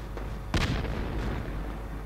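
A single sharp impact cracks close by as a sniper round lands near the player in the Project Reality military video game, followed by a short rumbling decay over steady background noise.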